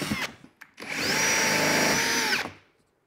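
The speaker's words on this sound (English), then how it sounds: "And once you're happy with them, we can drill out those holes." A power drill boring holes in a hydroponic cloning setup, with a couple of brief clicks before the motor winds up into a loud, steady whine lasting about a second and a half and then cutting off.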